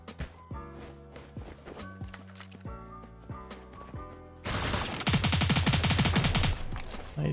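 Gunfire in the video game Cyber Hunter: rapid bursts of automatic shots crackle loudly in the latter half, after a stretch of lighter clicks and steps, with no talk over it.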